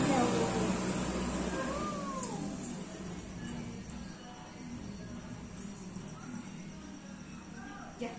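A voice imitates a cat's meow during a traditional children's clapping game played by a great-grandmother and child, a short wavering cry over busy, fairly loud background noise with other voices around.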